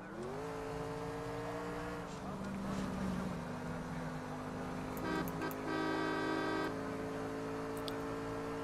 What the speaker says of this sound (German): Muss ja eigentlich auf jeder Kreuzung hupen.